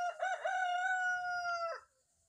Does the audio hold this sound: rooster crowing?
yes